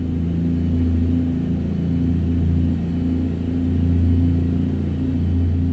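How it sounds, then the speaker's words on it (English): Simulated Cummins NTC Big Cam truck engine laboring uphill at full throttle in American Truck Simulator, a steady, loud, low droning rumble with strong harmonics that holds constant throughout, with no talking. "Engine's really struggling here. I got foot to the floor and it's still trying to go up the hill."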